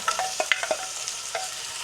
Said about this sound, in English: We're going to fry off those shells.